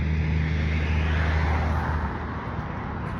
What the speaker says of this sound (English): I feel like that you guys probably wouldn't hear me over the semi